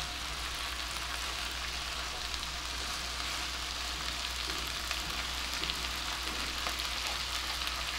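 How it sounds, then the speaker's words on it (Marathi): Tomatoes sautéing on high flame for homemade pizza sauce in an even, continuous crackling sizzle, close and steady throughout, like light rain, with no talk. "मी गॅस मोठा केलाय आणि आता हे छान परतून घेऊ"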